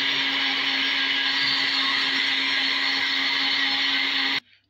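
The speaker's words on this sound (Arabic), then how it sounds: "هنضرب كل الكلام ده مع بعضه" A kitchen blender whirs loud and steady as it mixes oil, water and pieces of cheese, then cuts off abruptly at the end.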